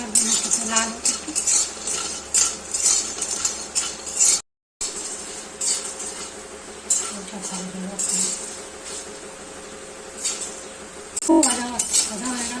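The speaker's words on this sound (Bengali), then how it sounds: "ভালো করে ভেজে নিয়ে তুলে নিতে হবে।" Lentil dumplings (bori) frying in a pan and being stirred, with repeated clinks and scrapes of a metal utensil against the pan over a faint sizzle, broken by a short gap.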